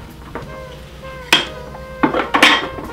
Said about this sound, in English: Let's put them inside, put the lid back on, reassemble the whole unit.